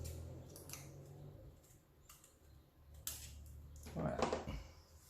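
Scissors snip through folded paper while a pop-up album is being made. The soft, separate cuts are faint and close, several spaced across the moment, and a voice talks quietly beneath them.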